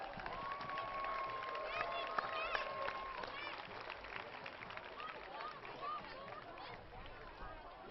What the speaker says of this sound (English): Let's give them a big round of applause as they approach the flag.